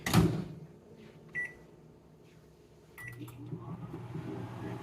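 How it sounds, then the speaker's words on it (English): A microwave oven heating frozen peaches opens with a thump and a door clunk, gives short beeps, then settles into a low steady hum, with no voices. "I'm gonna put these in the microwave because some of them are still frozen."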